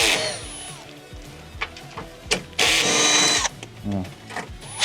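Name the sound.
10 mm wrench removing bolts on Mercedes Sprinter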